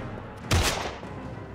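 Gunfire in the Heavy Rain video game, two sharp loud shots about a second apart, each with a short decaying tail over a quiet background.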